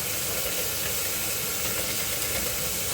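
Sliced onions frying in a pan with turmeric stirred in, giving a steady, dense sizzling hiss that runs unbroken and fairly loud at close range, with no voices.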